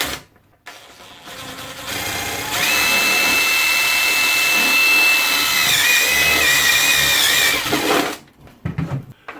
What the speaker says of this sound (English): So I'm going to go ahead and make a hole right here